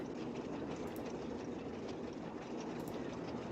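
A moving train in the Nancy Drew game Last Train to Blue Moon Canyon gives a steady, loud rumble with rhythmic clacking on the rails, continuous throughout with no talking.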